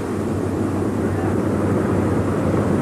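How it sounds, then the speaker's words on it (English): Airplane engine droning steadily in flight before skydivers jump at a 1979 U.S. skydiving championship, a loud continuous roar filling the cabin with no breaks. "it's time to get out of this airplane, Bob"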